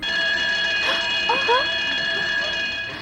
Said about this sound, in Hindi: हीरा चुराने के लिए कोई अगर हाथ बढ़ाएगा तो अलार्म बज जाएगा